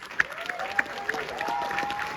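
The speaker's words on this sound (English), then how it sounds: "One final round of applause" An audience at a documentary world premiere Q&A claps in steady, moderately loud applause, with a few sharper claps standing out over a murmuring crowd.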